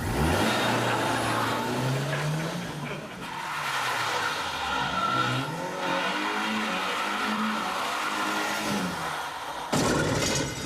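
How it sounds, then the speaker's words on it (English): A car pulls a handbrake turn, its engine revving and wavering while the tyres skid and squeal across the surface; voices come in briefly near the end. "I bet you can't do a handbrake turn in it."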